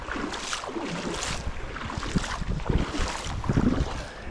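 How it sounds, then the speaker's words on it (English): Kayak dragged by hand through shallow Maine river water, with irregular sloshing and splashing surges under gusting wind noise, growing louder and more churning toward the end. "I'm just gonna walk and pull the kayak behind me."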